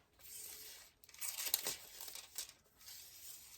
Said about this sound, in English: I'm gonna take a piece of silver foil and cut that roughly